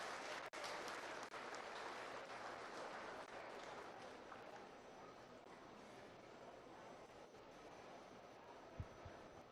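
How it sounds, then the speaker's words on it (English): A crowd at a 2024 beef cattle showmanship event claps for the exhibitors, producing a steady, even wash of applause from a distance that holds for the whole stretch, with a single sharp knock along the way. "Give these exhibitors a round of applause."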